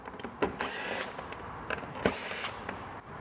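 Quiet clicks and small plastic snaps come from fasteners being worked loose on a Vespa GTS scooter's battery cover, a few sharper taps standing out over faint rustling.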